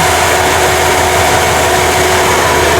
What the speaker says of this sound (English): Fan just came on again.